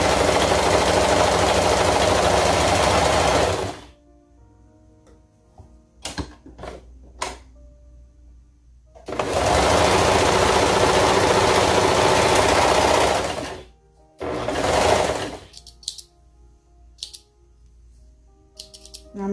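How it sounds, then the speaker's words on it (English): A sewing machine runs in two long steady bursts of fast stitching, separated by quiet gaps with small handling clicks and snips, while joining the shoulder seams of a toddler maxi dress at close range. "right sides together, put your shoulder seams together and get to sewing"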